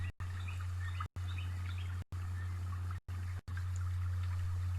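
Small insect-eating birds chirp in scattered bright tweets over a steady low hum, broken by several brief silent gaps.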